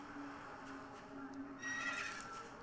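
Clockwork Cruiser, a horse-like mount in the video game Wizard101, whinnies with a quiet, rising neigh that brightens toward the end over faint game background sound.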